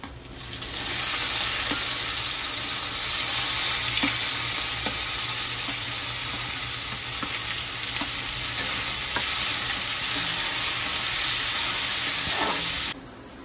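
Chopped onions sizzle and fry steadily in hot tempering oil for an Indian vegetable dish of brinjal and potato, a continuous close crackle with occasional stirring clinks and no talking.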